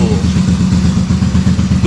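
Yamaha Virago 250 V-twin motorcycle engine running out of sync so it sounds like a single cylinder, a loud close steady uneven chugging throb with no voices.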